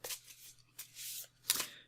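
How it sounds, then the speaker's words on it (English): Oracle of the Seven Energies oracle cards shuffled by hand in three short, crisp riffling bursts, close and clear with no talking. "So I wanted to shuffle a couple of cards."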